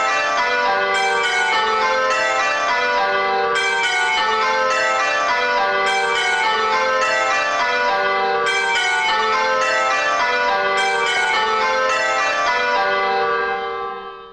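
Eight church bells ring changes in steady, overlapping rounds of bright metallic strikes that keep an even rhythm for about fourteen seconds before fading out, with one bell striking slightly out of place.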